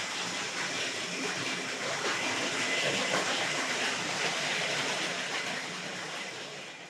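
Hornby Dublo model locomotive running on layout track, a steady close whirring rumble with faint rail clatter that holds throughout and eases off slightly at the end.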